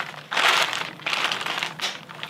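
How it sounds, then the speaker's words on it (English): An LED light globe inside a plastic bag is smashed, giving loud crinkling and crunching bursts of plastic and breaking material in two or three close, noisy surges. "So what we do is get a plastic bag, put the globe into the plastic bag,"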